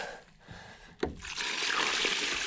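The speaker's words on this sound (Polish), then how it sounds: "Miałem półbeczki, wodę prawie wybrałem. Resztę spuścimy." Leftover water drains out of a half-barrel with a sudden splash and then a steady rushing pour that continues to the end.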